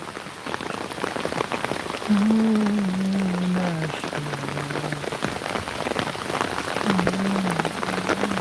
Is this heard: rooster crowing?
no